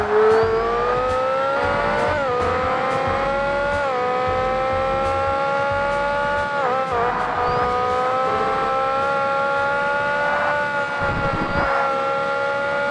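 Car engine in the video game Forza Motorsport (2005): a loud, continuous high-pitched whine that rises and drops repeatedly through gear changes, with brief dips and a squeal-like burst late on.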